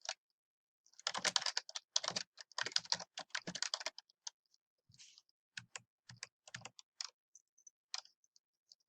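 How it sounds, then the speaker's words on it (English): A computer keyboard being typed on in close, quiet bursts of key clicks, with a dense flurry early on and then sparser, scattered taps. "We're going to go ahead and type in our author."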